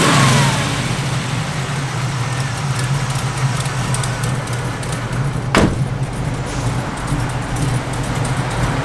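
A 1969 Chevrolet Camaro SS V8 with a collector gasket leak idles loudly up close, a deep steady rumble that lifts briefly with a quick rev and settles back, with no talk.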